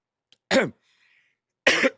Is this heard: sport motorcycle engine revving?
no